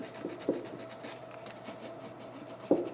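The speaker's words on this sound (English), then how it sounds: "So I'm going to sand that off a little bit." Mahogany wood is sanded by hand to smooth out a repaired blemish: close, soft rubbing strokes repeat in an uneven rhythm, with a few sharper scrapes.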